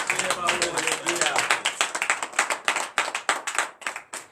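A congregation claps steadily in acclamation during a Monday morning prayer service in Comè, Benin, the sharp, rapid hand claps filling the room from start to finish while voices carry faintly beneath them.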